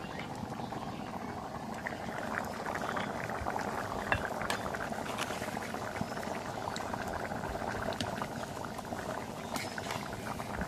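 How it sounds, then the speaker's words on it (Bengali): Curry of fish simmering in a pot as it comes to a boil, a steady bubbling and burbling with soft pops, close and continuous throughout, no talk. "এখন তরকারিটা বলক উঠে গেছে"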